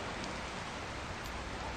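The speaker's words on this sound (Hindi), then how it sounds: "बारिश गिर रही है" Steady rain falling, a dense even hiss of drops on surfaces, continuous and moderately loud with no breaks.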